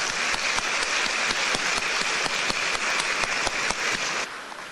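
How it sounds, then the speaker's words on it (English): Audience at an American Chamber of Commerce event in Taiwan applauds an honoree: brisk, dense clapping from a crowd, steady and close throughout before easing slightly at the end. "Let's give him a round of applause."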